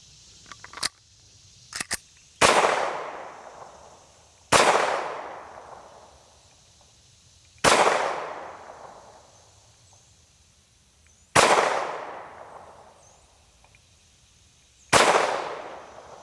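A SAR B6 pistol fires Federal 124 grain Hydra-Shok rounds at a range: five loud, sharp shots spaced about three seconds apart, each ringing out in a decaying echo, after a few small handling clicks.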